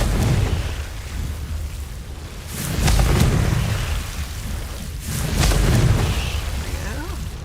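Confringo blasting spell cast in Hogwarts Legacy: two heavy, rumbling bursts a couple of seconds apart, each a booming explosion swelling over a constant low ambient wash and fading slowly.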